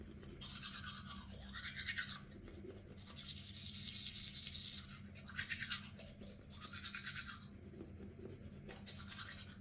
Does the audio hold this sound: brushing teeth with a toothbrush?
yes